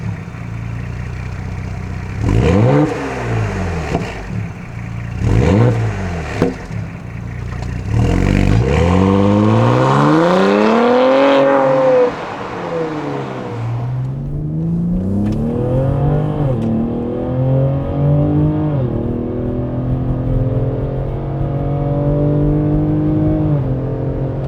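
Ford Explorer ST engine with an aftermarket exhaust, several quick blips followed by a long sweeping rev rising and falling, then a steady deep idle rumble, loud and close with no talk.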